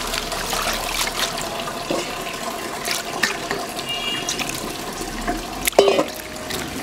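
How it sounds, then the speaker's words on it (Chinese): Tap water runs steadily over vegetables being washed in a sink, a continuous close splashing stream with brief louder splashes near the end. "我再洗一次。"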